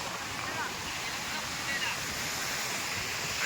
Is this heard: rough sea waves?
yes